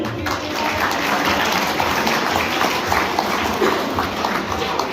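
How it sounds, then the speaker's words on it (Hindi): Sustained applause from an audience honouring teachers at an annual school prize distribution ceremony, dense steady clapping filling the room from start to finish with no break. "तो तमाम असातिज़ा के लिए आप तालियां बजा दें।"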